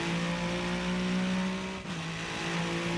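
A Ferrari GT race car engine in a sim racing game drones loudly and steadily at high revs, with a brief dip in pitch partway through as if shifting or lifting, then holds on; no voices.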